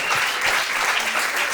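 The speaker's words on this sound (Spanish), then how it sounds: "Un aplauso," An audience applauds on a Spanish talk show, steady dense clapping filling the moment loudly and evenly from start to finish with no voices over it.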